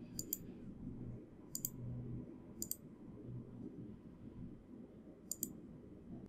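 A computer keyboard's Tab key is pressed a few times, giving four crisp, isolated clicks spread at irregular intervals over a steady low room hum, with no talking.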